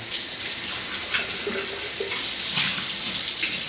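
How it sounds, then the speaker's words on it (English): Milk whey from homemade thick Greek yogurt poured out into a sink, a steady splashing liquid stream running throughout, close and fairly loud with no talk. "I'm going to pour this out because it's also only as good as the milk's expiration date"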